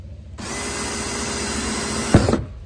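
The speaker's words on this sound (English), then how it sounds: "It won't drill through plastic." A power drill whirs steadily for about two seconds, ending with a brief grinding burst as a dull bit bites into plastic before stopping.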